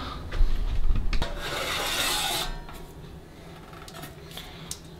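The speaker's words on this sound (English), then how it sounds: "we'll quickly grab a screwdriver and we'll just unscrew that" A screwdriver works loose a part on a 709AD spot welder, making a close, raspy scraping grind for about two seconds before it fades to a quieter hiss with a few faint ticks.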